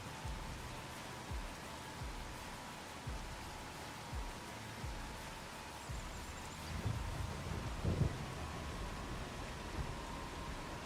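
Steady rain hissing down on an Iowa farm, a soft even wash of drops with occasional low thumps and a brief louder patch midway, no voices.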